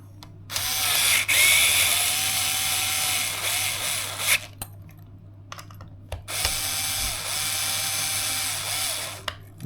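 A power driver tightens screws on a Traxxas Sledge RC truck's M2C Racing forward motor mount, whirring in two long close bursts with brief clicks and pauses between them over a constant low hum.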